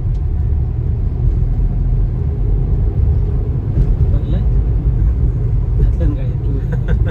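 A car drives along the Mumbai-Goa highway (NH 66) between Mangaon and Nagothane, giving a steady, loud engine and road rumble from start to end, with faint voices in the background.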